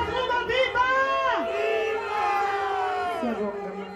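ANC supporters at a South African political rally, a crowd singing and cheering together with many overlapping voices, loud and close, the massed sound swelling steadily throughout.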